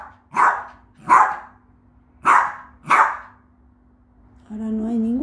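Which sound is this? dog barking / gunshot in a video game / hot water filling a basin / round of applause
dog barking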